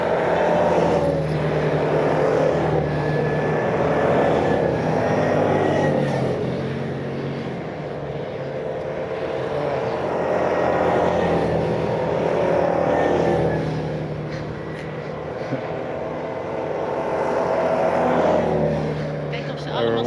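Cars pass loudly along a road between Flamingo Street and Barcadera Road, each one swelling into a rushing roar and then fading, with several passes in a row and people talking nearby.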